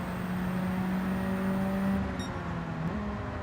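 Racing car engines in the Gran Turismo 7 video game, a Cosworth against a Supra, give a steady engine hum with a sustained whining tone that shifts in pitch near the end.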